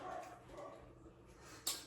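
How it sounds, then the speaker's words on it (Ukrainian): A dog barks in a home kitchen, a single faint bark near the end of a quiet stretch with low room noise. "собачка гавкає"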